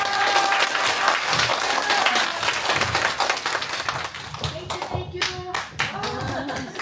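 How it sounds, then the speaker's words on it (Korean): A room full of people at a multicultural forum seminar in Gyeyang claps loudly, the applause thinning into a few scattered claps near the end. "다시 한번 큰 박수로 맞이해 주시기 바랍니다"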